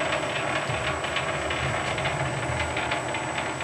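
Metal lathe carriage traveling along an 8 TPI lead screw while set up to cut a 24 TPI thread, giving a steady continuous mechanical whir with a faint ratcheting texture, close and alone.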